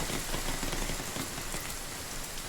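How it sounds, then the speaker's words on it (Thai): Heavy, steady rainfall in the video game The Forest pours down continuously, a dense hiss of drops drumming on surfaces with no pauses. "ฝนตกหนักแล้ว"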